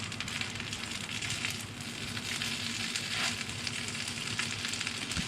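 Egg and bacon fry in a pan over a gas flame, a steady close sizzle and crackle with occasional stirring scrapes, continuous and fairly loud, with no talking.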